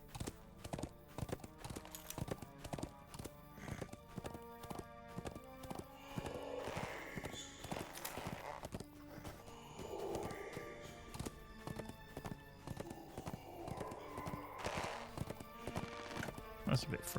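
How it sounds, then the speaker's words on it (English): Rhythmic clip-clop of horse hooves as a mounted character rides in the game LOTRO, a steady trotting patter layered with in-game ambience and occasional whinnies, continuing throughout. "So we're going to get on the horse."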